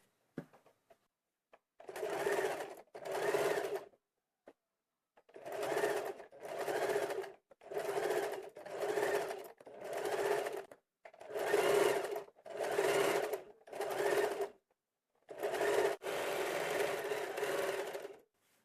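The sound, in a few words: sewing machine stitching canvas along kurti neck edge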